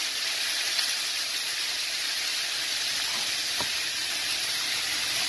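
Onion frying with sausages in a pan for Mexican-style sausages, a steady broadband sizzle and hiss that holds at an even level throughout, with no talking.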